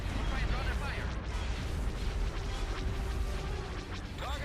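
Bombs explode in a dense, continuous rumble of booms and blasts during a space battle in the Star Wars game Thrawn's Revenge, loud and sustained with faint game voices mixed in.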